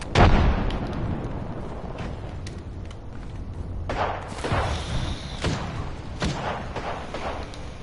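A frag grenade blast and gunfire in a shooting video game: a heavy boom at the start, then scattered sharp shots and bursts at moderate volume, with no voices.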